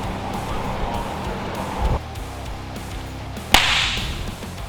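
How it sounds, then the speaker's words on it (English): Small white snap-pop fireworks are thrown, giving two sharp, loud cracks about a second and a half apart over a steady background rumble. "A couple little snappers, like the little white ones, but a little louder, just slightly louder."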